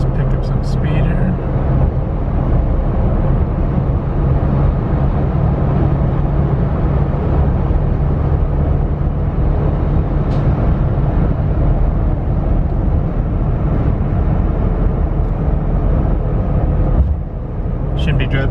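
A 3rd gen Toyota Tacoma pickup accelerates at speed, a steady loud engine and road drone with wind rumble running the whole way, dipping briefly near the end as a gear changes.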